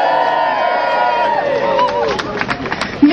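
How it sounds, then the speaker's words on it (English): A live crowd at a tar sands protest gathering cheers in solidarity with pipeline blockaders, a sustained wash of massed voices and whoops that swells near the end, loud and close. "can I just have a cheer of love and solidarity for the Tar Sands blockaders in Texas?"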